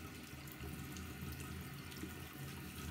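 Warm water runs steadily from a bathroom tap into a sink, a constant soft splashing hiss that stays even and close throughout, with no talking.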